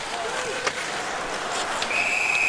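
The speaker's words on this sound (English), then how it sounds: "This one is put out of play for a whistle." A referee's whistle sounds at an ice hockey game between the Detroit Red Wings and Washington Capitals: one sharp, sustained blast near the end, rising over a steady crowd murmur and arena noise.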